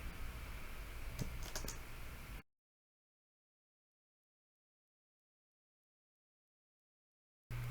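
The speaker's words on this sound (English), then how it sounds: "Okay, it looks like I can type" Keys clatter on a computer keyboard during an Arch Linux install, a dense run of close clicks lasting about two seconds before the sound cuts to silence.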